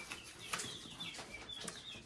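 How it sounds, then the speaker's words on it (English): Baby guinea hens being brooded chirp in a soft, steady stream of small high peeps, faint and slightly distant, with occasional louder chirps standing out over a low background hum. "If you hear that chirping, I'm not sure if the phone is picking this up, but we have some baby guinea hens that we are brooding out here"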